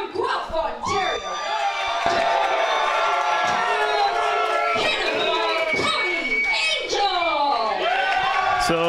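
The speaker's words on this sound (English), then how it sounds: "So Cannonball Cody Angel getting the love from the hometown crowd here." A hometown wrestling crowd in a Guelph, Ontario venue cheers, whoops and shouts for Cannonball Cody Angel on a Friday night, a dense, loud and continuous roar with shrill whistles and yells rising above it.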